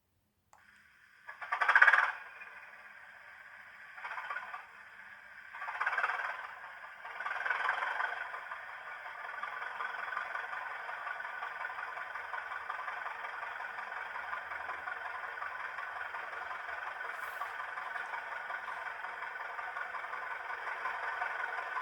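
Dapol Class 73 model locomotive's sound system, with a few short revving bursts followed by a steady, quiet electronic engine idle hum with no other sounds.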